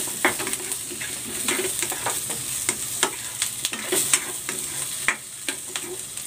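Potatoes and onion sizzle and fry in a pan while being stirred, with steady close crackling and repeated sharp scraping taps of a utensil against the pan; no talking.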